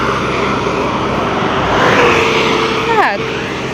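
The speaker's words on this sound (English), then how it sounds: "The vehicles are so fast." Fast vehicles rushing along a roadside during a walk in the rain, making a loud, continuous roar of tires and engines nearby, with a person's voice briefly heard over the traffic.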